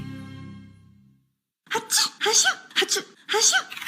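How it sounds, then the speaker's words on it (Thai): Sneezing in a Thai allergy medicine advert: after a short tonal intro and a pause, a person sneezes about four times in quick succession, loud and close. "เมื่อมีอาการจามเนื่องจากโรคภูมิแพ้"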